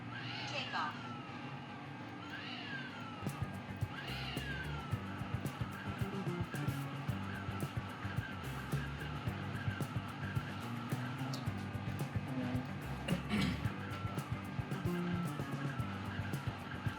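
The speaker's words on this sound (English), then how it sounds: "Motors are idle. Takeoff." A repaired DJI Mavic 3 Classic drone spins up its motors for takeoff after an ESC fix: a few short rising whines give way to a faint steady buzzing hum as voices speak nearby.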